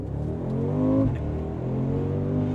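A 2025 Mercedes-AMG G63's 577-horsepower twin-turbo V8 in comfort mode hums steadily and close, with a brief swell in engine tone about a second in before settling back to an even, moderate drone.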